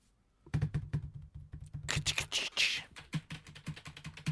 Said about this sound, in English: Just doing some typing noises to try and...